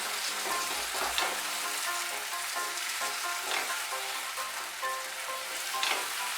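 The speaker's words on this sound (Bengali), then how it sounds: "এখন সবজিগুলো ভাজা হয়ে গিয়েছে, এর মধ্যে আমি এখন জল দিয়ে দেব।" Drumstick vegetables fried in a pan sizzle and crackle steadily as water is added, a close, continuous hiss with scattered pops and light stirring, no voices.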